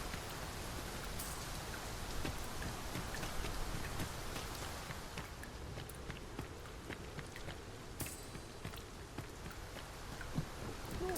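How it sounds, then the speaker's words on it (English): Steady rain falls in the video game Dragon's Dogma 2, a dense continuous patter of drops on the ground with scattered sharper drips, an even wash of sound throughout and no voices. "Mind the rain, Master. The weather may yet turn fierce."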